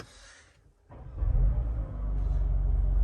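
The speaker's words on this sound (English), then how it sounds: "Cool, so let's start up the car." A Mercedes-AMG SUV engine fires up after a brief hush, its start swelling into a loud, steady low rumble that holds close by, as heard from inside the cabin.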